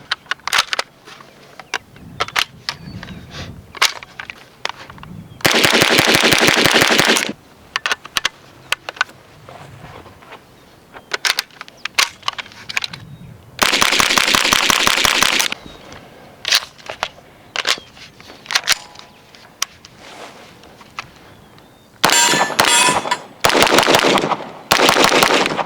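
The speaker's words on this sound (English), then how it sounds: "we're gonna start off with some SP5, unsuppressed and suppressed, to show you kind of the different recoil impulses" Swiss SP5 9mm submachine gun fired live, both unsuppressed and suppressed: several loud bursts of rapid automatic fire separated by quieter stretches of single sharp reports and handling clicks, with no talk.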